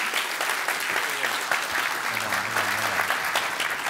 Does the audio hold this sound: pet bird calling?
no